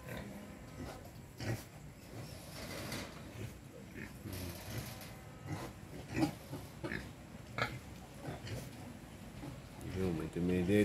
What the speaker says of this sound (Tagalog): Tapos, ito yung ating mga biik.